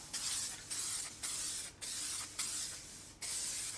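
A spray can hisses in a series of short, loud bursts with brief pauses between them, close to the listener.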